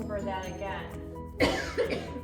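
A single abrupt cough bursts out partway through, followed by a smaller second one, amid continuous nearby talking in a home art-painting session.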